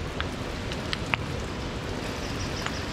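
Steady hiss of natural spring water falling like a shower, continuous and fairly close, with a few faint drips and taps on top.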